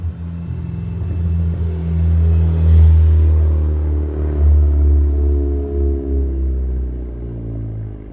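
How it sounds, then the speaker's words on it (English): A BMW E34 engine revs up and settles as it idles, a loud low rumble that swells in a few waves with faint crackling from the exhaust, heard alone without speech. "Bit of his car crackles."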